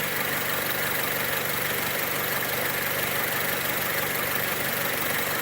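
A Mazda MX5 with a rich-running fuel system (fault code P2097) idles with a steady, even engine drone, constant and close up with no voices.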